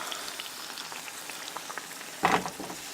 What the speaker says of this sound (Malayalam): ഇപ്പോൾ അടുത്ത സൈഡും നന്നായി ഫ്രൈ ആയി വന്നിട്ടുണ്ട്.